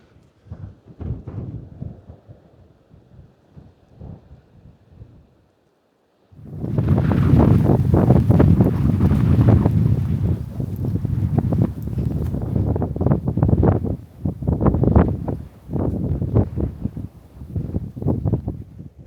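Strong gusting wind buffets the microphone on an exposed coastal cliff path north of Scarborough on the Cleveland Way, Yorkshire; a quieter lull gives way to loud, sustained roaring gusts that surge and ease repeatedly.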